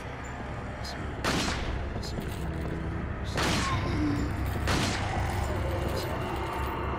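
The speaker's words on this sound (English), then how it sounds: "The guy is gonna shoot me." Gunshots in the Resident Evil 4 video game, three sharp booming shots spaced a second or two apart over a steady game ambience.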